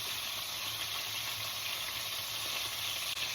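Cherry tomatoes and a little tomato paste fry in a pan with parsley-infused oil, giving a soft, steady sizzle that stays faint and even throughout, with no talking.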